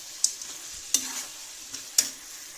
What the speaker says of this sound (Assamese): এতিয়া ভালকৈ গোটেইখিনি মছলাখিনিৰ লগত আকৌ 2 মিনিটমান হাই ফ্লেমতে ভাজি ল'ম